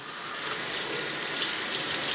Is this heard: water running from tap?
yes